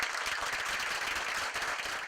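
Applause from the room after a community college district governing board vote, a continuous mass of clapping from a gathered audience, moderately loud and unbroken for two seconds.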